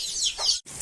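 A hen kept inside a house gives a short, close cluck, brief and alone.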